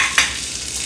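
A tempering of cumin, chili and curry leaves sizzles loudly in a pan as a brief steady hiss with one sharp crackle near the start.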